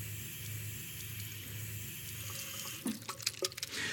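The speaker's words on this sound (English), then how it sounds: "You can clean the Aqua Touch very easily by just holding it under the tap." A Philips Aqua Touch electric shaver is held under a running bathroom tap, giving a steady close hiss of flowing water, with a few brief splashes and clatters in the last second.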